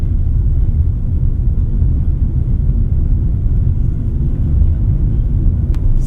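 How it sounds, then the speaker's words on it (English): Steady low rumble of road noise inside the cabin of a 2025 Suzuki Fronx while driving, a constant broadband hum with no speech. "Road noise, there's a bit going inside the cabin"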